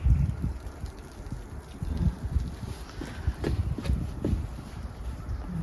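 Snowstorm wind buffeting outdoors, low rumbling gusts hitting the microphone in uneven surges, with faint scattered knocks and no clear speech.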